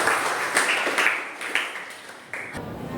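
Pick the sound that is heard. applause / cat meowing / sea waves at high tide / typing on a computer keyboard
applause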